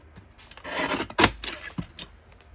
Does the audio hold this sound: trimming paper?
yes